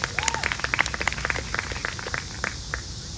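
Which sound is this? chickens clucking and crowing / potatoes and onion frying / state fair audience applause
state fair audience applause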